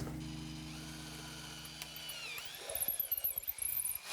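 A drill bores a cable hole through a custom electric guitar body, a steady whirring motor hum that gives way to rougher, irregular grinding and crunching as the bit cuts through the wood, close by.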